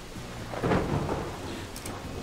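Rain and thunder in a farming video game: steady hiss of rainfall with a low rumble of thunder swelling early and fading, plus a couple of faint higher ticks near the end, no talk.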